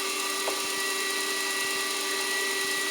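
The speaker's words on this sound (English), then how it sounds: "it's also really satisfying watching metal disintegrate by some magical force called an end mill" An end mill machines a metal apex seal for a 3D-printed rotary engine, giving a steady, close whining hum with a faint grinding edge throughout.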